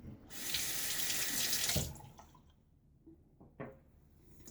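A bathroom tap runs for a rinse after a shave with a Rockwell 6C razor, a steady close gush of water that stops abruptly, followed by a few soft drips and light clatters in a quiet room.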